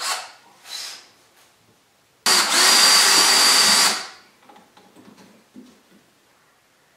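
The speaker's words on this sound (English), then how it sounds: "let's get this thing drilled" A power drill bores a hole for a DIY kayak rudder on a Sun Dolphin Sportsman: one loud, steady whine of about two seconds, with softer clicks and handling noises before and after it.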